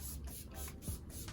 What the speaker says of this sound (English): I'm just gonna take this and just literally spray it all over my face